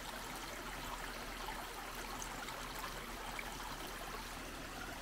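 Water rushes steadily over a low creek weir, a continuous broadband splashing hiss with no voices.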